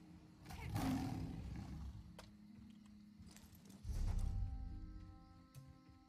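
A big cat roars in the Elder Scrolls Online video game, with two fairly faint rumbling roars over low in-game ambience and a few clip-clop and jingling sounds.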